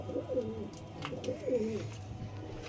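Pigeons coo softly and close by, two or three rounded, repeated calls over quiet background noise, with no speech.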